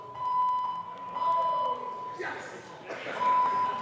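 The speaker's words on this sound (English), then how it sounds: "That is a fire alarm." Fire alarm in the Colorado House legislative chamber, a steady electronic tone repeating in separate bursts and heard moderately loud through the room, with murmuring voices and some stirring in between.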